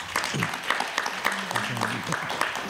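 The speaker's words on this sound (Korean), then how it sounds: "세 분의 토론자 선생님께 큰 박수 부탁드립니다" Audience at a humanities festival session applauding a speaker and three discussants, fairly faint scattered clapping with some sharper individual claps, mixed with talk underneath.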